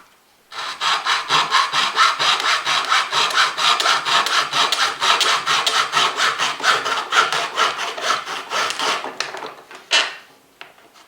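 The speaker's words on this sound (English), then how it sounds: "get my little hacksaw and off we go again" A small hacksaw cuts through a piece of foraged wood clamped in a home workshop, giving steady, rapid back-and-forth rasping strokes up close and loud for about nine seconds before stopping.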